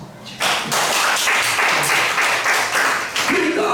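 An audience at a leadership lecture bursts into dense, steady applause that starts abruptly and carries on for several seconds at close, loud level.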